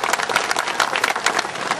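Loud, dense applause from an audience at a teacher-honouring ceremony, a continuous burst of many hands clapping at once.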